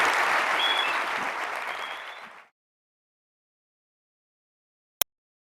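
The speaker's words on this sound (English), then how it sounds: "Huge round of applause for Kevin Sister" Audience applause for Kevin Systrom, a full room of steady clapping that slowly fades and stops after a couple of seconds, followed by silence and one sharp click.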